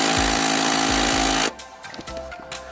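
An impact gun rattles loudly in close bursts while removing the seat bolts on a Subaru STI, then cuts off into a quieter garage with small clanks.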